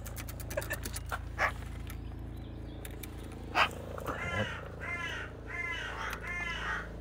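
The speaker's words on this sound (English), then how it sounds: "Male pink magpie." Harsh magpie calls from a male pink magpie, a few loud croaky bursts near the mic over a steady background hum, followed by a run of repeated arched chattering notes.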